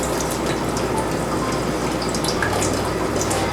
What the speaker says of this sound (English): Shake some of this water out.